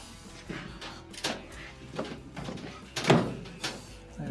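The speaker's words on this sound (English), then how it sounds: "Grab the front and the back and make sure you apply pressure so that it is slipped in." A dryer door switch slider is pushed into place by hand during a door switch repair, producing several close plastic clicks and thunks at irregular intervals, with one sharper snap near the end.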